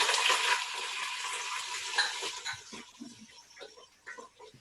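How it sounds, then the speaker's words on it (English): Pork chunks sizzle loudly in a hot pot, the hiss strongest at first then fading into softer crackles and occasional clinks. "here's the sizzle."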